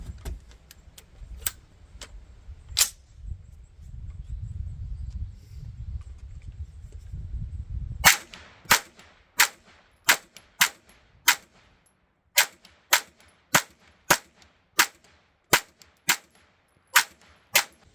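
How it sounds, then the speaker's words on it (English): Rapid semi-automatic fire from an Anderson AM-9 pistol shooting Hansen ammunition at a range, roughly a dozen sharp, evenly spaced shots in quick succession after a stretch of low rumble and a few isolated earlier reports. "Let's just do a little more rapid fire at this thing just to kind of function test it."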